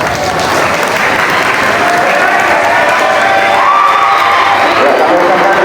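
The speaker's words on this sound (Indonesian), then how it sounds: "Tepuk tangan buat saudara semua." Sustained applause from a large crowd at a school flag ceremony marking National Education Day, with scattered shouts and voices mixed into the steady clapping throughout.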